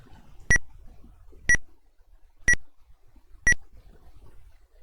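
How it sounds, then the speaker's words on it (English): Four identical electronic beeps from a video game's guidance signal sound at a steady one-second rhythm, crisp and isolated against near silence. "I guess I have to use the beeps to figure out where I should be going."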